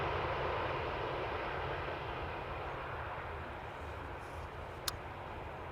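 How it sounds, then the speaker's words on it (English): An SAS Airbus A320neo jet descending on the glide slope toward Amsterdam Schiphol, a steady broad low roar of engines holding at moderate distance throughout, with a brief faint click near the end. "I do see an SAS A320neo. Now on the glide slope to center."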